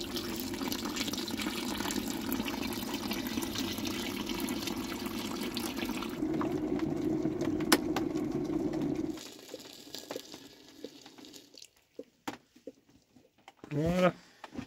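Running water pours steadily from a tap into a basin, mixing cold and warm water for hand-washing laundry in a van. It flows loud and continuous, then stops, leaving quiet handling noises and a few knocks.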